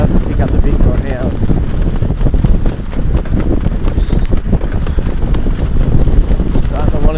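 A trotter mare driven on a loose line, her hooves clip-clopping in a steady, brisk rhythm close by, with wind noise and someone talking over the hoofbeats.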